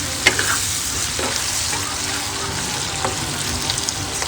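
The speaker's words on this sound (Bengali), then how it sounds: "এর মধ্যে দিয়ে দেবো কুচিয়ে রাখা ক্যাপসিকাম, এটাও আমি একটু ভালো করে ভেজে নেব।" Chopped capsicum fries in a pan for chicken chilli, giving a steady, close sizzle with a few soft stirring scrapes and no talk.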